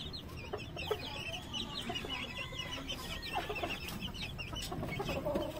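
Chicks chirping in a small farm enclosure, many high peeping calls scattered throughout at low volume, with some clucking from older chickens mixed in and no talking.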